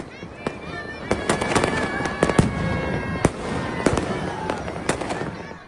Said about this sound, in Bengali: নগরীর বিভিন্ন এলাকা কেঁপে ওঠে পটকার আওয়াজে